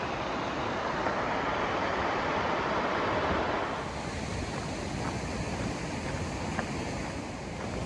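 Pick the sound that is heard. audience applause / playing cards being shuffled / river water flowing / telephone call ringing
river water flowing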